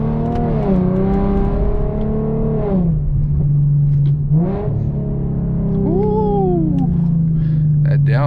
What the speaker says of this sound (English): so y'all can hear this exhaust.